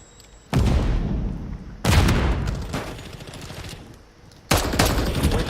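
Loud bursts of automatic gunfire in a first-person shooter video game, with three separate volleys that start sharply and rattle on in rapid, dense succession.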